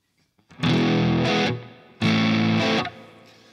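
Distorted electric guitar through a Line 6 Helix dirt snapshot with compressor and distortion engaged: two loud, sustained strummed chords, each ringing about a second before cutting off, close and dry with no talk.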